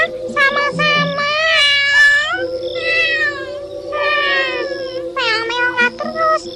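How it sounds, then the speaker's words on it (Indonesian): A cat meows again and again in loud, drawn-out, rising and falling cries, close by, with short pauses between calls. "Meong-meong terus."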